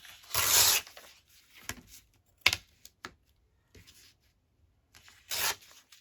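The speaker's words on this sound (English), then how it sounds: "I'm just going to tear all of these." Paper scraps are torn by hand in quick, close ripping bursts, one long tear at the start and another near the end, with scattered small rustles and rips between them and no talking.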